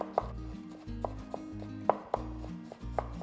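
Garlic is chopped with a knife on a cutting board, giving a series of faint, sharp taps at an uneven rhythm with no talk.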